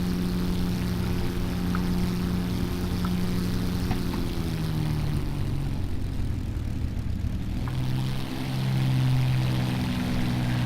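A Spitfire Mark I's piston engine in a flight simulator drones past in a flyby, a steady low rumbling hum with shifting pitch that swells slightly toward the end, heard alone.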